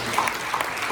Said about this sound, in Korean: 박수로 우리 한번 고마움의 박수를 한번 쳐주셨으면 좋겠어요